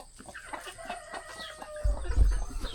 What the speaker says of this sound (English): I'm pretty sure that funny one right there is a rooster and the other one over there is a hen